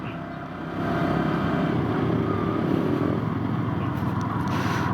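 A Yamaha R15 VVA motorcycle ridden at high speed gives a steady, loud engine drone with wind rush. It swells after the first second and then holds constant throughout.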